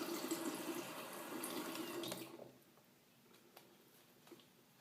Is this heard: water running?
yes